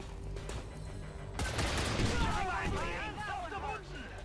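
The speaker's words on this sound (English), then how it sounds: "So the mech's gonna missile us." A mech unleashes a missile barrage in the tactical game XCOM Long War 2, with a burst of rapid launches and impacts rising abruptly after a quieter start, then whistling, warbling tones trailing off, with speech underneath.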